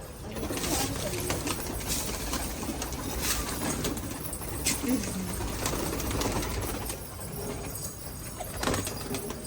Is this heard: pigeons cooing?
yes